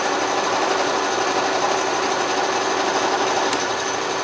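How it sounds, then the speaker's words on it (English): An Atlas Craftsman lathe runs with its power feed engaged, giving a steady, loud mechanical whir and fine rapid chatter that stays even throughout, with no talking. "Turn the lathe on, pull it out, we've engaged the power feed."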